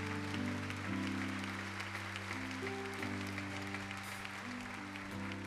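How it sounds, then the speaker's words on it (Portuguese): Congregation applauding during a Catholic Mass after the Gospel reading, a steady wash of clapping that runs the whole time while sustained organ or keyboard tones hold underneath and slowly change pitch. "Vamos aplaudir com força a palavra de Deus."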